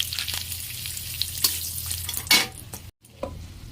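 Whole garam masala spices fry in hot oil left from frying potatoes, a steady close sizzle with sharp crackles and spatters and the odd clink of a utensil, with a short cut in the middle.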